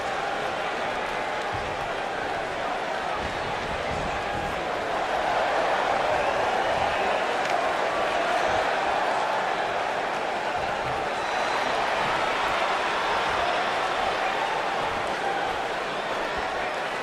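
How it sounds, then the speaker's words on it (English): An arena crowd in the wrestling video game WWE 2K19 murmurs and cheers as a continuous roar that swells slightly midway, with a commentator's voice talking over it. "This crowd obviously wants to know what's going on."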